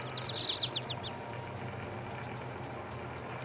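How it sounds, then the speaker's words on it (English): Loud video game birds chirp in a quick run of sharp, bright tweets at the start, then fade out over a low, steady game ambience. "That was some really loud birds."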